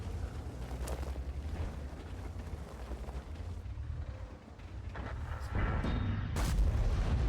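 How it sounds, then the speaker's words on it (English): A tank cannon fires in World of Tanks over a continuous roaring engine and battle rumble, with a heavy boom near the end standing out above the steady background. "Managed to snap a really lucky shot into there."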